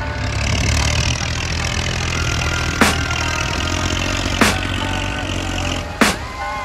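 A tractor engine runs steadily on a road, a loud, continuous low rumble with three sharp broadband bangs or clanks at intervals over it; no one talks.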